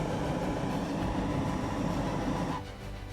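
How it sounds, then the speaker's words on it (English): A blowtorch burns against a resin-rich fatwood log, a loud steady roaring rush of flame close by that drops in level near the end. "Blowtorch, it's a great thing to have."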